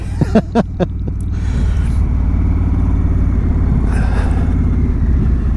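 A 2017 Indian Chieftain Dark Horse motorcycle riding along a road gives a steady, loud, deep engine rumble with wind noise throughout, after a few brief sharp knocks at the very start.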